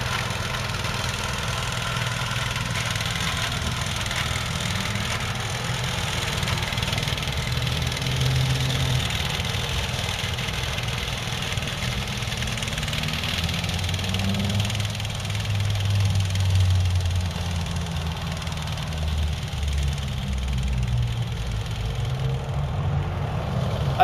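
A remote-controlled slope mower runs steadily with its blades engaged while cutting across a hillside, its engine drone constant and fairly loud for the whole stretch, with no talking.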